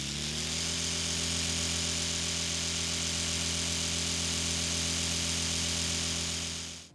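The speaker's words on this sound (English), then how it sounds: "how electric toothbrush works" A steady electric buzzing hum, like a small motorized toothbrush running continuously at close range, then switching off at the end.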